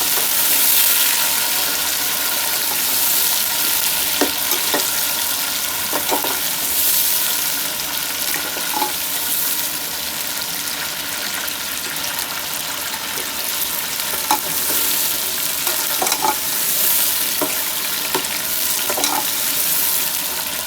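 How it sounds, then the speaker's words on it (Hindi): Potatoes frying in hot oil in a pan for a homemade aloo pulao, a steady close sizzle running throughout with occasional scraping clicks of a spoon stirring them, no voices. "आलू डाल देंगे। एक से 2 मिनट तक आलूओं को फ्राई करेंगे।"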